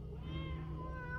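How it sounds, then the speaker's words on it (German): A cat meows in the video game Tormentum Dark Sorrow, a single drawn-out, wavering mew heard clearly but softly over a low, steady ambient hum. "Sie miaut mich an und sie sieht flauschig aus."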